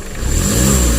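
A car engine that broke down on the road revs steadily during a roadside rescue, a loud continuous mid-pitched roar close by with no talk over it.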